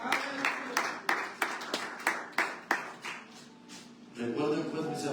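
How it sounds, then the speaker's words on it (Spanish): A church congregation applauding to the Lord after a Bible study sermon, a series of sharp, rhythmic group claps about every third of a second, then fading into murmuring voices. "denle un aplauso al Señor."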